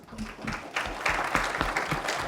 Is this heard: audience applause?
yes